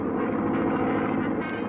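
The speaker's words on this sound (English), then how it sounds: "Gee, I didn't know you knew how to fly a plane, Mo." A continuous droning engine hum, like a propeller plane in flight, steady and fairly loud for a brief stretch with no voices.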